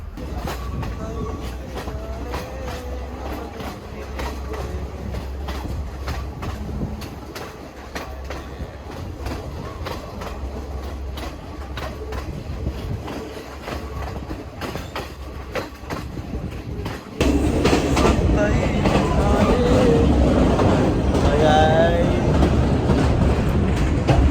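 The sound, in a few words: train arriving at Haliela station in Sri Lanka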